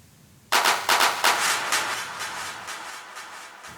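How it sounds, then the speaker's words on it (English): A drum fill sample in a music mix plays as a quick run of sharp, punchy hits that fade into a reverberant tail. "Fills, these are really nice."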